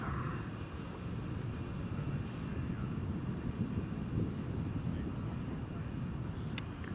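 Global Airlines Airbus A380 taking off from Glasgow Airport, a continuous broad low roar of jet engines heard from a distance, steady and dense throughout with no voices.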